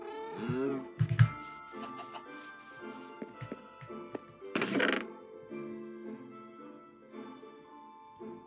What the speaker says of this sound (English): That's me, a kitty cat.